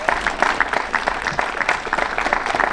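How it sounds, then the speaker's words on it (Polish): Audience applause at a classical music concert, honoring the conductor: distinct rhythmic clapping close by, moderately loud and steady across the short stretch. "Już też wielkie brawa dla pani dyrygent."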